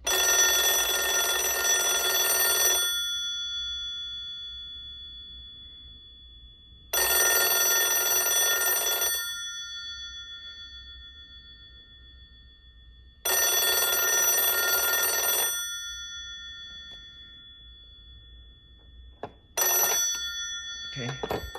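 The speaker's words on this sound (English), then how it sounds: "So now what we'll do is we'll ring the telephone." A 1977 Iwatsu 600A2 Japanese telephone rings with its bell, three long bursts of about three seconds each separated by silence, then a brief partial ring and handling noise at the end.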